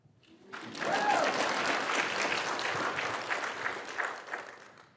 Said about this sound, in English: Okay, y'all can clap